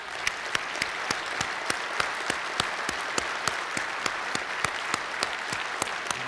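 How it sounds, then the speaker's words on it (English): An audience claps steadily for certificate recipients at a public transportation conference general session, a dense, even wash of applause with sharp individual claps standing out throughout. "let's give them a rousing round of applause"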